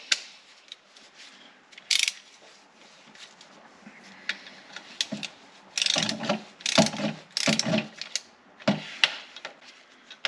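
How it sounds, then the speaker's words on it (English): A ratchet tightens bolts on a BMW E83 X3 / E53 X5 X-Drive transfer case actuator, giving bursts of close, loud ratcheting clicks in irregular runs with quiet handling noise between. "I'm going to kind of get these tightened down a little bit before we crank the torque on"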